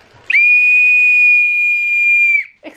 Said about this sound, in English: now I'm gonna blow the louder whistle and see what happens.